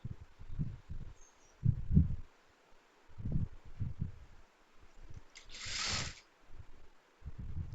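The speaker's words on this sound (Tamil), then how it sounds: "இப்போ வந்து உள் சைடு தையல் போடலாம்." A sewing machine stitching the inner side seam of a frock, running in short quiet bursts of mechanical whirring and needle clatter separated by pauses, close and alone.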